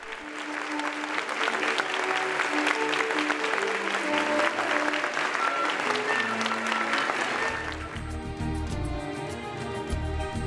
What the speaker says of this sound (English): President Park Geun-hye of the Republic of Korea was welcomed by the crowd with a big applause.